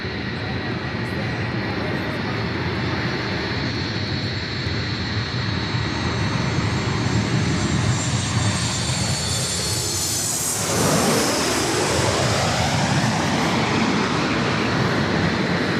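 A loud, continuous aircraft engine roar at LAX airport swells and peaks as the plane passes close by, with its pitch sweeping downward, then settles into a sustained rumble.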